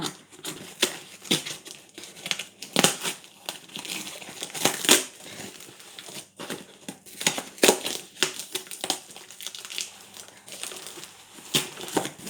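A taped postal parcel, damaged in transit and covered in post-office tape, is torn open, with dense irregular crinkling and crackling of packaging, close and fairly loud, in steady bursts without talk.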